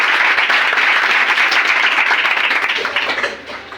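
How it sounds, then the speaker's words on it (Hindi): A classroom claps for a student who answered a maths question well, a dense burst of applause from many hands that holds steady and then thins out and fades near the end. "प्रिया के लिए जोरदार ताली"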